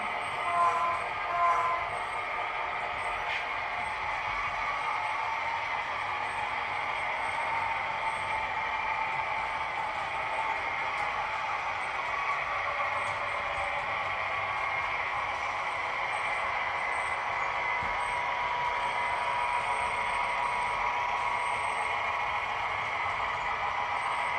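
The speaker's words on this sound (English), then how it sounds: "the passenger train I'm just going to let run" HO scale model passenger train running steadily on layout track, a continuous close rolling hum with faint clicking and rattle throughout, no talking.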